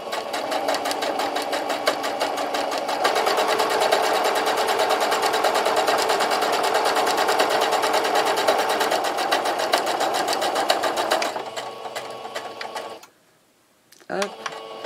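A sewing machine stitches through fabric scraps for a homemade sponge, running steadily and close for about eleven seconds with a shift in pace midway, then slowing and stopping before a brief restart.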